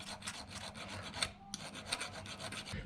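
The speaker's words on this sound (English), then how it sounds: "kind of file over it" Metal file rasping over a part from a 1965 Toyota FJ45 F135 starter motor during a rebuild, quiet rhythmic strokes repeating evenly, close up with no talk.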